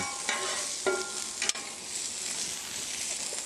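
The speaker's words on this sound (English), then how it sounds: "Let's put our bacon down. I'll put our bacon down first." Bacon hits a hot Blackstone griddle at about 500 degrees, with a loud, steady sizzle and a couple of sharp clinks from a spatula or tongs, close by and with no talking.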